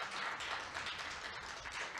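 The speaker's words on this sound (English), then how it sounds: "let us thank the panelists again with a round of applause" A round of audience applause for panelists closes a development session, steady dense clapping heard close and moderately loud throughout, with no talking over it.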